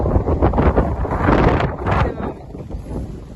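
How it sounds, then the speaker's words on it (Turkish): Steady wind buffets the microphone at an outdoor yard sale in a loud, rumbling roar that swells and fades slightly throughout. "biraz rüzgar yine bugün devam ediyor"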